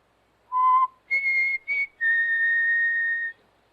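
A person whistles a short tune close by: a brief low note, two quick higher notes, then one long sustained tone.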